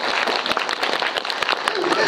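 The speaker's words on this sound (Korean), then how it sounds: "아무튼 박수 부탁드립니다" Audience applause at a Lotte Cinema Star Chair fan event with actor Hwang Jung-min: dense, steady clapping fills the whole stretch, with scattered voices mixed in.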